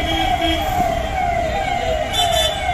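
An ambulance siren wails through a nighttime traffic jam on VIP Road in Kolkata. Its tone sweeps slowly downward over a steady rumble of stalled traffic, fairly close.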